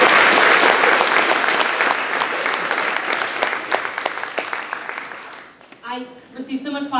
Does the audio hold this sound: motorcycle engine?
no